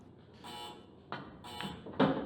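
Several short electronic shot clock extension beeps at a pool match, in separate bursts, moderately loud against a low background rumble, with no talking.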